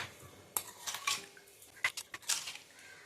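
A spoon clinks and scrapes against a bowl while sugar is stirred into a breakfast puttu mixture: a few sharp, close metallic taps and rattles in short irregular bursts, with quiet gaps between.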